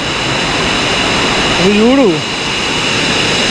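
Waterfall at Kaasipatnam near the Araku Ghat road, a steady broadband roar of rushing water filling the whole stretch, with a voice speaking briefly in the middle.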